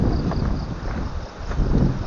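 Strong northeast monsoon wind by the sea roars and buffets steadily across the microphone, a broad rushing noise that rises and falls without pause.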